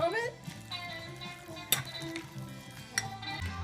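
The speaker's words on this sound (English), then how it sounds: "you're probably going to want to stir it around" Guacamole being stirred in a bowl, giving soft, close scraping and occasional light clinks of a utensil against the bowl. A voice and faint background tones run over the stirring.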